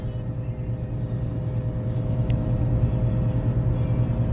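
A 2019 Ford F-350 diesel pickup towing downhill in the mountains with its exhaust brake engaged, giving a steady low droning rumble that swells slightly in the second half, heard from inside the cab with no talk.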